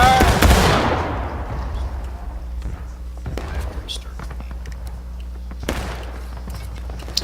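A company of soldiers fires a musket volley in War of Rights, opening with a loud crackling burst of near-simultaneous shots that rolls off into a long echo. Scattered distant shots and bursts of voices follow.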